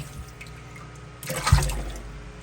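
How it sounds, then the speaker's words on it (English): Tap water splashing over a pump intake strainer to rinse out debris, a brief close gush that swells suddenly after a quiet trickle and then settles. "you just rinse off all this stuff out of your intake strainer"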